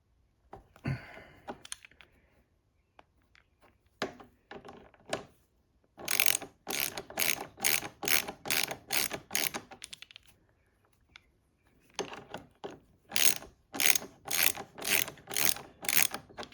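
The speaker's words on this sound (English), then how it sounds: "So now we'll get a wrench on that and pull that off. So we're just gonna have this with a socket" Ratchet wrench with a socket loosening an exhaust bolt on a Kawasaki ZX6R motorcycle: two long bursts of rapid, regular clicking, close and loud, separated by a few isolated clicks and short pauses.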